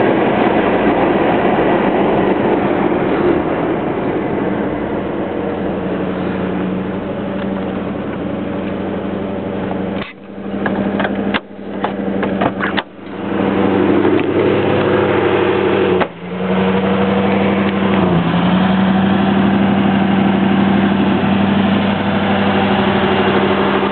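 A Toyota 4Runner truck with a swapped Lexus 1UZ-FE V8 engine and a solid axle is driven along, its engine droning loudly and steadily, with a few brief dips as it shifts or lifts off.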